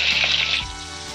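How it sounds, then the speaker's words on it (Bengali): Pointed gourd pieces fry in oil with a pinch of turmeric, a brief close sizzling hiss that fades after a moment. "পটল ভাজার মধ্যে সামান্য হলুদ দিয়ে দেবো।"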